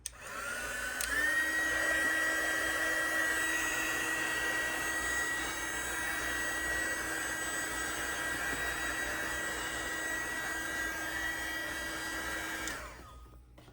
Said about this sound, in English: Hit it with my heat gun again.